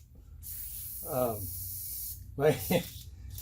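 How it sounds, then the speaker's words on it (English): An aerosol can of brake cleaner gives a short hissing spray during a strut mount job on a 2012 Chevy Cruze, heard close alongside a voice. "That was brake cleaner. Grabbed it, I reached for the wrong can."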